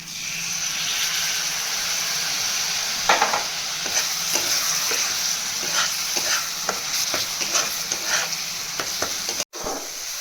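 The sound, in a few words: soaked spice paste sautéed in a pan for fish curry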